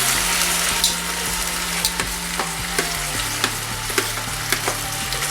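Marinated vegetables with added pepper sizzle steadily in a hot pan, with repeated scraping clicks and knocks from stirring over a continuous frying hiss, close and fairly loud.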